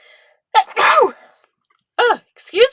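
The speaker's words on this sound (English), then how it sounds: "Hold on, I'm going to sneeze." A loud, close sneeze with a sharp intake followed by the burst, then brief voiced sounds from the same person afterward.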